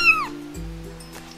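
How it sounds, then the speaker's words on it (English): A played recording of a cat gives one short, clear meow at the start, followed by a low hum and faint background noise. "Yes, that's the cat."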